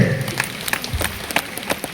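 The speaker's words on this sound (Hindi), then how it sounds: "ताली दीजिए।" An audience at a Hindi Bible quiz gathering applauds a correct answer, a dense continuous patter of clapping with a few louder individual claps standing out.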